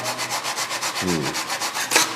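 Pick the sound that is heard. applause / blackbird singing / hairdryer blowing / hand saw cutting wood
hand saw cutting wood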